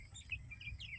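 Small young chickens on a farm chirping in quick, high little peeps, several short calls close by over a low background rumble.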